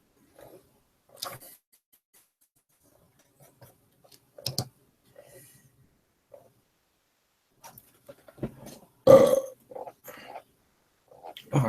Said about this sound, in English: Oh, I keep burping